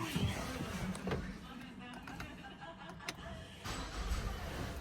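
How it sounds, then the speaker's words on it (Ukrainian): A Ford Edge 2.0 EcoBoost engine cranks and turns over after fuel injector cleaning, amid rustling and movement inside the vehicle, with brief clicks and a muffled voice nearby. "Сідаємо за кермо і запускаємо"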